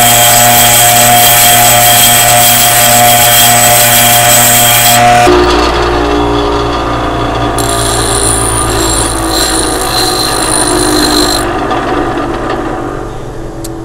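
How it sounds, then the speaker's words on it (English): Bench grinder switched on and spinning up, then grinding a steel punch head to round off its mushroomed top; a loud, continuous whine with a shift in tone as the metal meets the wheel, no voices. "We're going to go ahead and flip it on. Let it get to speed, and then we're going to go ahead and slowly grind that off."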